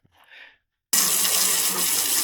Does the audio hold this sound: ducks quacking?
no